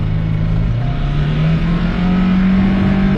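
A Chevrolet Cobalt or Gentra engine drones loudly and steadily up close, its pitch rising slowly as it revs harder over about three seconds, with no talking.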